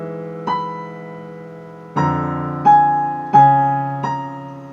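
A piano plays a measure of the Adagio Sostenuto from Rachmaninov's Piano Concerto No 2: five struck chords, each ringing out and fading, spaced about a second apart, close and clear with no talk.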